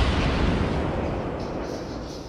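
Ship main cannons fire in a naval battle video game, leaving a deep, broad roaring boom that rolls out and slowly fades over a couple of seconds, with no voices.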